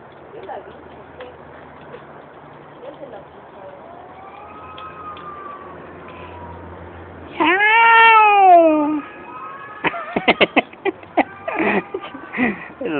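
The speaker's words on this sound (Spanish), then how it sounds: "Esos gatos, sí." Several cats meow and caterwaul outdoors near a campfire at night, drawn-out wailing cries rising loudly midway, followed by a burst of sharp, choppy yowls and cat noises, with faint background murmur beforehand.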